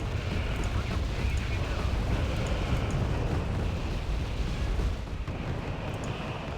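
Counter-rocket artillery barrage in the Wargame: Red Dragon video game, a continuous rumbling roar of rocket fire and explosions with faint crackles, steady and fairly loud throughout.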